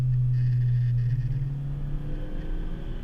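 The engine of a modified 2018 Honda Civic Si, driven on a canyon road, holds around 4,000 RPM. It gives a steady, low engine drone heard from inside the cabin, shifting slightly in pitch.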